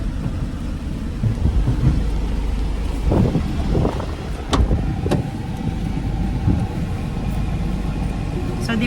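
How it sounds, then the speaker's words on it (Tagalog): Truck being driven, a continuous low engine rumble with road noise and occasional knocks and rattles from the cab, steady and close throughout. "So, ito pala ang dala ko, truck. Ako yung driver."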